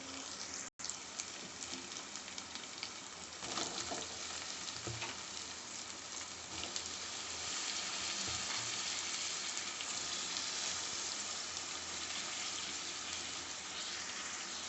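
Chopped tomatoes fry in oil with wilted fenugreek leaves, giving a loud, continuous hiss and crackle. A brief dropout comes near the start, then the sizzle holds steady and close with no speech.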